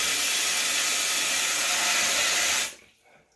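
Water rushing out of the sediment tap on a cottage Viqua water filter system in a loud, steady hiss that stops abruptly, leaving faint drips.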